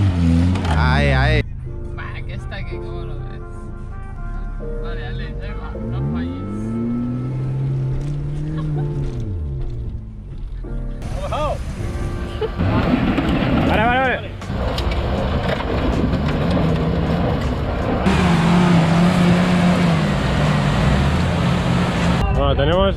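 Engines of Suzuki 4x4 off-road vehicles rev and labor at a 4x4 trial event in Premià de Dalt, with rising and falling throttle sweeps and strained bursts, loud and continuous beneath people talking and shouting nearby.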